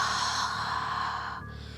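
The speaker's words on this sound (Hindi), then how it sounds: "ऐसे बहुत ज़ोर से कोई सांस ले रहा है, जैसे कोई हांफने का सांस लेता है" Heavy, panting gasps of breath used as a horror sound effect, one long ragged exhale close and loud, fading out, with no voice over it.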